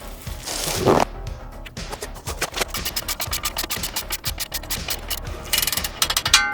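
Torque wrench with an extension ratcheting on a Subaru Baja Turbo set to 20 pound-feet: a long, steady run of loud, close ratchet clicks with a brief scrape at the start and faster clicking near the end.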